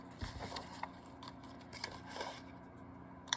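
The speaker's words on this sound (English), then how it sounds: "I'm cutting the bottom part of a sticker." Scissors snip through a paper sticker during a Christmas craft project, a few soft, brief cuts spaced out and heard close in a quiet room.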